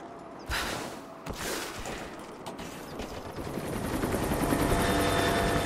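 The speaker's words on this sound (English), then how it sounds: "Let's get the helicopter landing." In the video game Rise of the Tomb Raider, a helicopter comes in to land, its rotor din building steadily louder and nearer, broken early on by a few sharp impact bursts.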